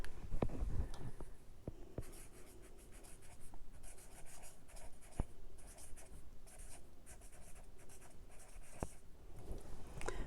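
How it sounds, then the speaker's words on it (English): Pen writing a header in a planner, up close and quiet, with steady scratchy strokes broken by short pauses and a few sharp taps of the tip on the page. "So now I can write my header."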